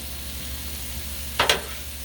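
Beef stir fry hisses on a Blackstone griddle while being mixed: a low steady sizzle with two loud bursts close together near the end, no talking.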